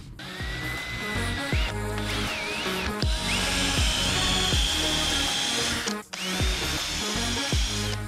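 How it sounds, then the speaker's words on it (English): A power drill bores screw holes in cabinet wood, loud and close, in several bursts with the motor whining up as each hole is drilled and short pauses between; no talk. "We're ready to drill."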